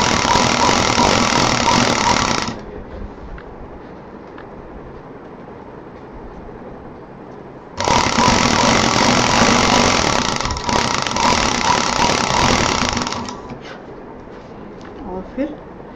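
A sewing machine stitches a homemade DIY door mat in two sustained bursts of loud, even motor whir, with a quieter pause between them.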